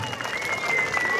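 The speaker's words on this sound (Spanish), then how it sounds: "¡Ese aplauso bonito!" Applause from the crowd at a jaripeo bull-riding event in Acapetlahuaya, Guerrero, a short burst of clapping heard somewhat distant, with an announcer's voice and a tonal whistle-like sound over it.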